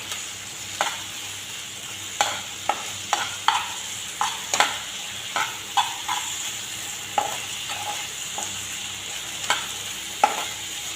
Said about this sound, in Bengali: এখন আরও একটু সময় ভাজা ভাজা হবে